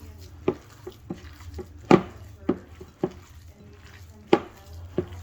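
Meatball ingredients with chopped garlic being mixed in a bowl, a series of close, sharp knocks and scrapes of a utensil against the bowl at an uneven pace, with a few louder clacks standing out.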